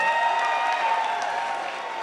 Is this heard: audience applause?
yes